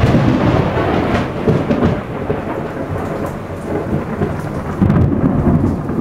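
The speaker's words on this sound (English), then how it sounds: "Another big bolt of lightning." Thunder rolling during a heavy thunderstorm, a loud continuous low rumble under steady pouring rain, swelling again toward the end.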